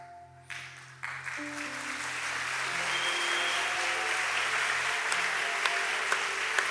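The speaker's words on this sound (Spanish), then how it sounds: "Ese aplauso no suena como tan fuerte" A church congregation applauds during a Sunday homily. The clapping starts thin and swells into a broad, sustained wash that fills the room, with a few sharper claps standing out and no talk.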